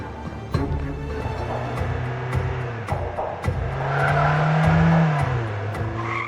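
Car engine roaring and tires squealing in a chase scene from an action film, a loud, continuous drive with a rising, sustained whine in the middle and several sharp impacts, no talk.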